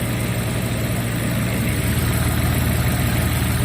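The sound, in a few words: car engine idling after head gasket repair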